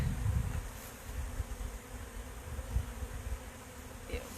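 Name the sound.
honey bee drones buzzing near hive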